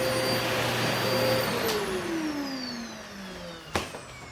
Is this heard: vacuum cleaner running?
yes